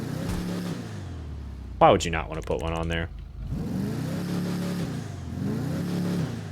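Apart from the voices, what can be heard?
Declasse Impaler SZ chrome big bore exhaust revving, GTA 5 video game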